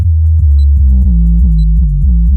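Deep pulsing bass tones from a Bass Killer Hertz sound-off CD played on 6x9 speakers in a Ford Escort Cosworth, loud and close, stepping through a steady rhythmic pattern of low throbbing notes with no talking.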